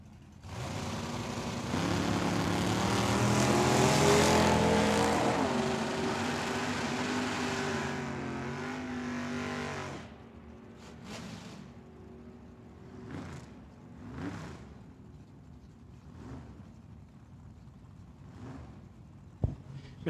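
Drag-strip launch of a Mercury Cougar against a purple Chevelle, loud engine roar building for about ten seconds, then fading into distant revs and short bursts.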